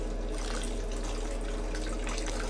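Beer wort for a pumpkin ale runs through a pipe into a fermenter on a Grainfather brew day, a steady, close gush of pouring liquid with no break for the whole short stretch.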